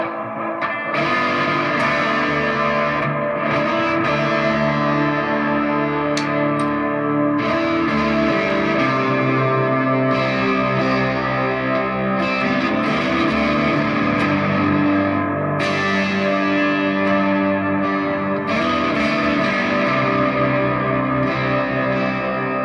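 Electric guitar played through a Joyo PXL Pro pedalboard with amp distortion and a Strymon effect, giving a loud, sustained, heavily driven tone with echoing, reverberant chords that ring continuously.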